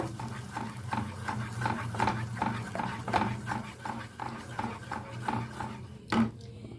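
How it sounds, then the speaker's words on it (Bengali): Carrots are stirred with ghee in a pan, a spoon knocking and scraping against the metal in a steady rhythm of regular clinks, fairly close and with no talking. "ঘিয়ের সাথে একটু ভালো করে মিশিয়ে নেব"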